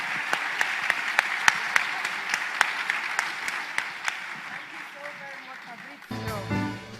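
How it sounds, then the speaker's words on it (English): Applause from a plenary session audience at the O2LAC 2023 conference starts as sharp, distinct claps and thickens into steady clapping before fading, with a voice speaking over the end. "A big applause for this amazing group of leaders."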